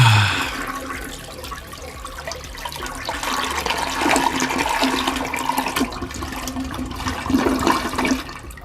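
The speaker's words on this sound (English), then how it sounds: "because toilet flush." A toilet flushes with a steady rushing and gurgling of water that swells again near the end before draining away, close and loud with no talking.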